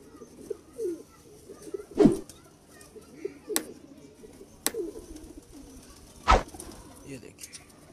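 Home-bred pigeons give soft, intermittent coos at close range, broken by a few sharp knocks and bumps.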